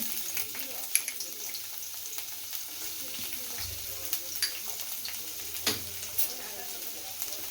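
Finely chopped ginger and garlic fry in oil in a pasta pan over medium flame, a low, steady sizzle with faint stirring scrapes. A voice is heard now and then.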